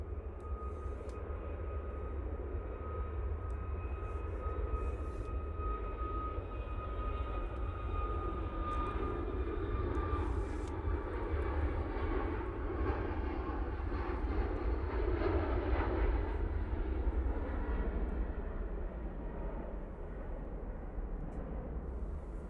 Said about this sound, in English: Ryanair off to Fuerteventura.